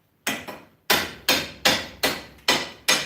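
Hammer blows on a forge-welded karambit blade, still warm from the weld: seven sharp metallic strikes at a steady, slightly quickening rhythm, close and clear with no talk.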